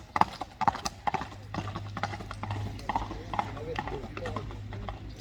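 Horse hooves clip-clop in a quick, uneven rhythm at a Kyrgyz horse showing, moderately close, under a steady low hum and people talking around it.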